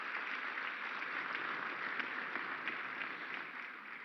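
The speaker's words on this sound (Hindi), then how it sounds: "आपकी तालियों के साथ" Sustained audience applause at the Rising Northeast Investors Summit 2025 in honour of PM Modi, a dense steady wash of many hands clapping across a large hall, constant throughout without pauses.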